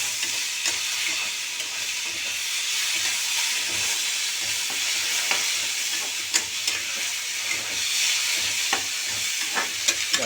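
Tomatoes fry on high heat in a pan with a loud, continuous sizzle, broken by frequent small clicks and scrapes of stirring close by.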